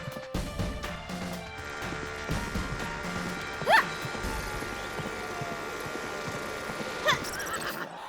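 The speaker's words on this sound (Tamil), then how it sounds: "குதிரை முன்னாடி போயிடுச்சு." A cartoon horse neighs twice in sharp, loud whinnies while its hooves clip-clop steadily underneath. There is no talking.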